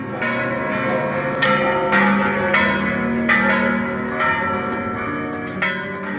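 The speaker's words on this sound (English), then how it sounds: "These bells are still rung by hand to this day." Hand-rung church bells of San Miguel Arcángel in San Miguel de Allende peal loudly, overlapping strikes ringing out in an irregular rhythm with long, shimmering decays.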